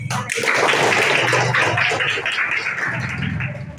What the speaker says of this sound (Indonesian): Sudah, tepuk tangan.